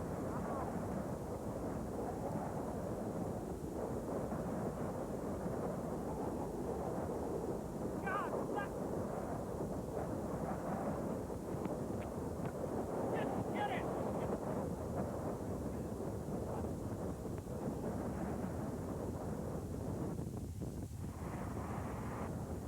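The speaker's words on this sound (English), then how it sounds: "Winds gusting up to 70 miles an hour slam dirt and sand into everything." Strong wind gusting up to 70 mph during a 1996 tornado chase, driving dirt and sand; a steady, loud roar with rumbling buffeting runs through the whole stretch with no break.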